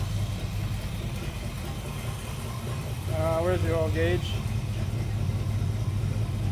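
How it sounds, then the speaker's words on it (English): An abandoned Pontiac engine idles steadily on its first start in 40 years, a low continuous rumble with slight blow-by, while a person speaks briefly over it. "I can't believe it's just idling."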